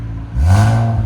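A 2017 Infiniti Q60 Red Sport with a 3.0L twin turbo V6, no catalytic converters and valves closed, revs once from a low idle rumble into a loud, close, rising exhaust roar that holds briefly.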